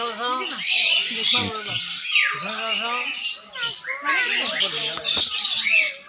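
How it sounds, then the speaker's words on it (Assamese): Caged birds in a zoo enclosure call over one another in a dense, close chorus of chirps, whistles and harsh squawks, rising and falling throughout. "এইবিলাক চৰাই।"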